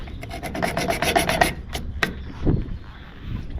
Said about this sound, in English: Literally taking a screw from the whatchamacallit and just finding a spot and scraping at it.